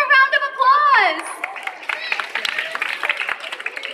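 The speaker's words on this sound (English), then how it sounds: "Give them a round of applause" A crowd claps for a group of trainees at a live Justice League show in City Center Bahrain, scattered hand claps following a voice, fairly close and moderately loud over murmuring chatter.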